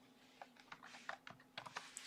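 Rapid, light clicks of a computer keyboard tap out a short string of keys at close range in a quiet room, with an uneven rhythm and no talking.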